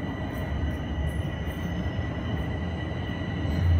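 An out-of-service train passes close by with a continuous rumble of wheels on track, swelling slightly louder toward the end.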